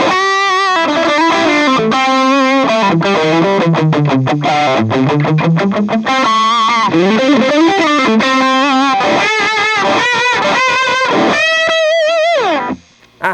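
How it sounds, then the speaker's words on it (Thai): Heavily distorted electric guitar through an M-Vave Cube Baby multi-effects unit, playing a continuous run of chords and bends with effects, loud and close, ending abruptly in a brief drop. "เดี๋ยวฟังเสียงแตกกันเลยนะครับ"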